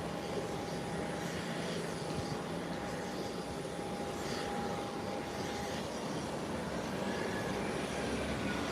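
An airplane making a 180-degree turn on the runway, heard as a continuous distant engine roar with a steady whine running beneath it, with no speech over it.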